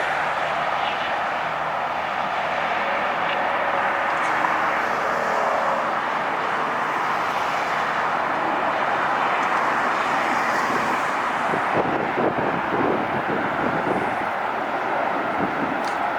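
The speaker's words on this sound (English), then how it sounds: "777-300 landing" A Boeing 777-300 airliner landing at LAX, a steady broad engine roar that swells and shifts throughout, heard from a distance outdoors with no talking.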